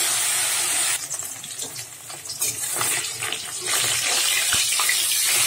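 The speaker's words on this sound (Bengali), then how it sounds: "মাছগুলো একটু লাল করে ভেজে নিচ্ছি।" Pieces of rohu fish frying in hot oil, a steady loud hissing sizzle throughout with bursts of crackling and spitting, close up and with no one talking.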